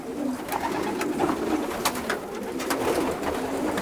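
Racing pigeons in a breeding loft coo steadily at close range, with soft overlapping calls, wing rustles and faint clatter filling the space throughout.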